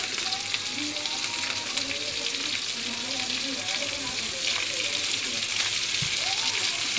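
Onions frying in a pan until crisp while sardines are being cooked, a steady dense sizzle and crackle with faint stirring, close and continuous throughout.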